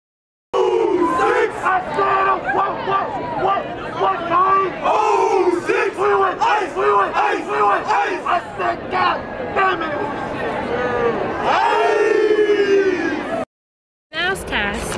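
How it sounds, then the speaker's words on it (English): Big crowd cheering and whooping at a college graduation, loud continuous shouts and cries over dense babble, swelling near the end before a brief cutoff. "It's the big crowd, it's the big crowd."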